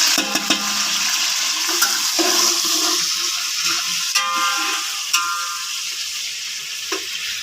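Chopped onions go into hot ghee in a village kitchen while chana pulao is prepared, giving a steady broadband sizzle and frying hiss throughout, with a few sharp clatters and stirring knocks along the way.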